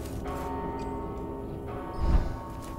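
Bell tolling in the video game Mortal Shell, faint and resonant, with a soft lingering ring and a dull thud near the end.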